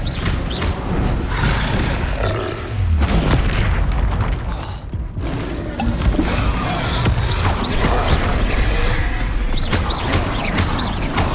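Bombarda explosion spell in Hogwarts Legacy combat: loud, dense booming blasts and crashes running continuously amid other spell impacts, with no pauses.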